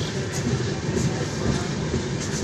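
The 12377 Padatik Express from Sealdah to New Jalpaiguri rumbles along through morning fog, a loud, steady roar of wheels and rushing air coming in through an open carriage door, with faint rhythmic clatter.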